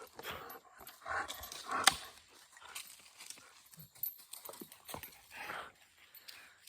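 A dog nearby making brief scuffling and snuffling noises with a few short sharp bursts, amid shuffling outdoor sounds, fairly quiet overall.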